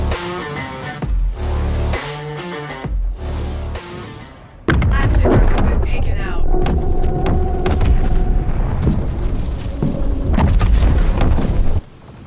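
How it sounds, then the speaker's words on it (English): A massive torpedo nuke detonates against an Idris capital ship in the space game Star Citizen, a loud sustained booming blast with rumbling thuds and layered debris noise that holds for several seconds before cutting off. "this massive torpedo nuke just flew into the Idris, and I mean, the explosion was just magical"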